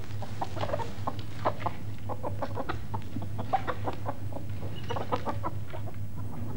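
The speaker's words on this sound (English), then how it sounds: "They don't mind sharing it with the chicken." A chicken clucking in a snug barn beside a mother donkey and foal, with rapid, repeated clucks over a steady low hum throughout.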